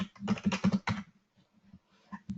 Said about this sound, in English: So here I type